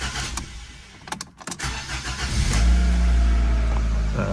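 Fiat 500 engine cranking briefly with a few choppy bursts, then catching and settling into a steady low idle close by.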